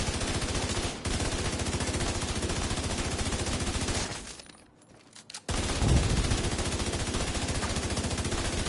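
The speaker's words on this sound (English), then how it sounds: "using the sniper rifle, you can shoot him from far away" Dense, continuous video game gunfire roars loudly almost throughout as a sniper rifle and other weapons shoot, with a brief near-silent gap before the barrage resumes at full strength.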